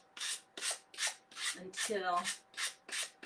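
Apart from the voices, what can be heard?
sanding block sanding edges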